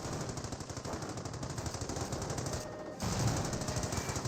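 A .30 cal machine gun firing in Company of Heroes, a steady stream of rapid, evenly spaced shots in continuous bursts, a brief dip then louder fire resuming, close and dominant.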